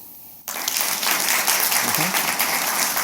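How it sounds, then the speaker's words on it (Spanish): After a brief quiet moment, an audience bursts into loud, euphoric applause at a business innovation talk, sustained and dense through to the end, with some voices mixed in. "¿Cómo sería un aplauso eufórico?"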